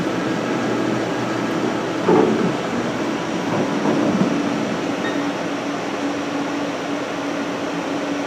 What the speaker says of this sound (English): Chip auger going.